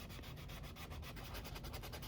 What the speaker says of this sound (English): use this sanding block